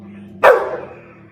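A single sharp, loud bark from a dog near a riverside, close and abrupt, fading quickly with a brief tail.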